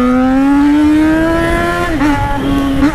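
A motorcycle engine hums at a steady, close, loud pitch, rising slowly, then dips and wavers briefly near the end, with no talking over it.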